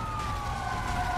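An ambulance siren in a multiplayer video game wails steadily and fairly loud for a moment, with a low engine rumble underneath and no talking.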